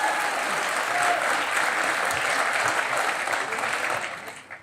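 Sustained, steady applause from a talk-show studio audience for cricketer Suresh Raina, dense clapping that holds evenly before easing off at the end.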